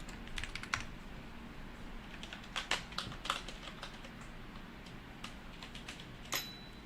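Clicky typing on a computer keyboard at a Linux workstation, a loose irregular run of quick keystrokes with occasional louder taps, close by and fairly quiet over a low room hum.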